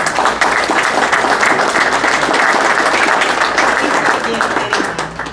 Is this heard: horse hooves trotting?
no